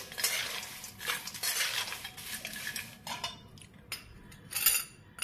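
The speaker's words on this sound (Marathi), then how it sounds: "आणि अजून फोडणी गरम आहे तर हे फोडणीमध्ये थोडंसं परतून घ्यायचं आधी" Peanuts, coconut and cashews stirred in hot spiced oil tempering, giving scraping and clattering spoon strokes against the pan with a light crackle, steady then in bursts, fairly close.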